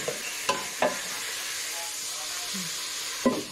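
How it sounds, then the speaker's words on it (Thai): Ground pork stir-fried with nam ngiao curry paste in hot oil: a steady close hiss of frying broken by several sharp spatula knocks against the pan, with a brief squeak amid the sizzle. "ใส่หมูบดลงไปผัด ทั้งหมูบดกับเครื่องแกงของคุณ"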